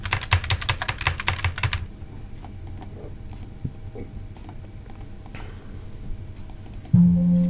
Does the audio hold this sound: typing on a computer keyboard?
yes